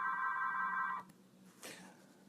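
A telephone rings for about a second with a steady electronic tone, then cuts off, leaving quiet room noise and a soft rustle.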